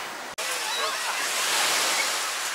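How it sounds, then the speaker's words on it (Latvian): Fairly large sea waves and a strong undertow washing along a sandstone shore make a steady, loud, broadband roar of surf that continues without a break after a brief dropout near the start. "diezgan lieli viļņi un tas jūrā velkošais vilnis."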